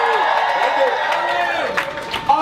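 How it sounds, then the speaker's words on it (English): A crowd at a Hamilton watch party applauds and cheers for a helper, a steady wash of clapping mixed with crowd voices, fairly loud and continuous. "Give a round of applause for Dylan."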